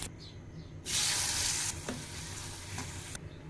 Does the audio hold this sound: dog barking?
no